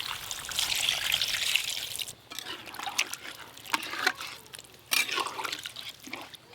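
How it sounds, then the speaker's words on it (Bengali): Water poured into a cooking pot of simmering chicken and elephant foot yam, a steady trickling splash that comes in uneven bursts close by, with no talk over it. "এবার জল দিয়ে দেবো"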